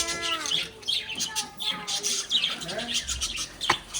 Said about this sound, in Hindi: कितनी सारी चिड़िया हैं?